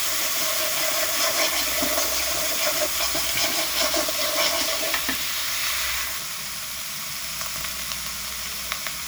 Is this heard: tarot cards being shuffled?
no